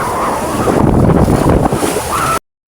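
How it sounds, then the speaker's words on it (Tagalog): Sea waves slosh and splash against and into a small fishing boat, a rough, close wash of water mixed with wind buffeting the microphone for a couple of seconds before it cuts off. "yung alon ay pumapasok pa rin sa bangka"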